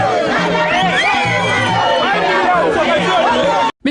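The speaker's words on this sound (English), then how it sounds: "Outside the chambers, a crowd of UPND supporters gathered to offer support to their own." A crowd of UPND supporters gathered outside council chambers, with a dense, continuous babble of many voices chattering and calling at close range, some bursts of cheering, until a brief cut near the end.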